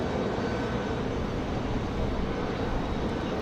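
An American Airlines jet arriving from Miami descends toward the south end of the runway at Raleigh-Durham International at night, giving a steady, broadband engine roar that holds at an even level throughout.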